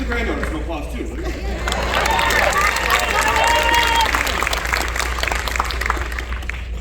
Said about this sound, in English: Give the granddaughter some applause too.